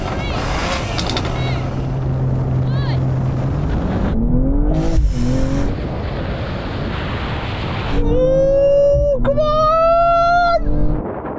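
A BMW M240i launches hard in a drag race against an Audi RS5, its engine note climbing through rising revs with a gear change, then surging louder and nearer in a second strong pull.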